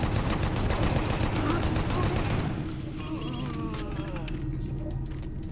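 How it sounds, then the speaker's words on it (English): Rapid, dense bursts of heavy weapon fire in the game Doom 3 BFG, loud and continuous for a few seconds before easing to a lower rumble, with someone talking over it. "This is Doom-esque shooting"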